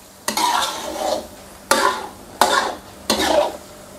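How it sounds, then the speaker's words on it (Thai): Four distinct scraping strokes of a utensil stirring chicken panang curry with coconut milk in a pan, spaced unevenly with brief pauses, close and clear with a faint simmer underneath. "คนคลุกเขาให้เข้ากันก่อน"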